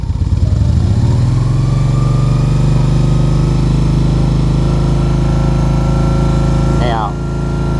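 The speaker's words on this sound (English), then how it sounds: "I'll just give it a little tiny rev for you." BMW R1200CL motorcycle fitted with a Nudge exhaust pipe, revved briefly from idle then settling into a loud, close, steady rumbling idle, with a small blip near the end.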